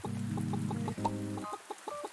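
Chickens cluck close by in a short, busy run of throaty, tonal clucks and quick, choppy notes, with no other sounds competing.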